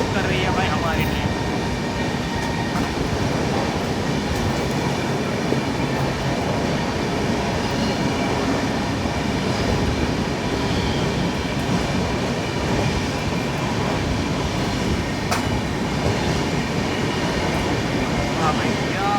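The Okha Nathdwara Express 19575 rolls along in a steady, loud rumble with faint wheel clatter, heard from inside the carriage and continuing unbroken throughout.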